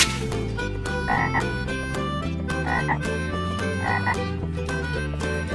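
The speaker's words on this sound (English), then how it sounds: "Green frog." A frog croaks in repeated bursts over a bouncy musical backing, about three croaks spaced evenly through the clip.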